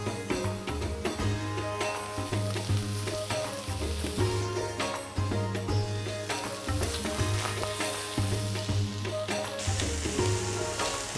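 Marinated salmon pieces grill in a pan with no added oil, a dense continuous sizzle and crackle throughout, loud and close with no voices.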